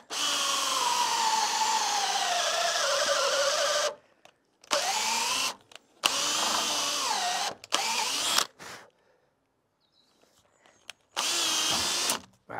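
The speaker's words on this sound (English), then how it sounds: "I've got 2 more holes to drill there." A power drill fitted with an auger bit bores holes into a cedar door, running in several loud close bursts of rising and falling motor whine separated by short silences.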